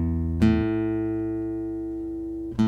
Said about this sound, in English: when the guitar gets a little bit out of tune like that